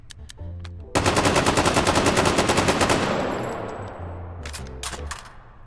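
A Mark 17 SCAR rifle fires in the H3VR virtual reality shooting game: a loud, rapid automatic burst of about two seconds rings out into a fading echo, followed by a few scattered shots near the end.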